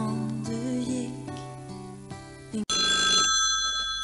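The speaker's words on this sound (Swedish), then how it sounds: "nu ringer tydligen telefonen här" Telephone ringing during a Swedish radio broadcast: music plays first, then cuts abruptly to a loud, continuous bright electronic ring that carries on alone to the end.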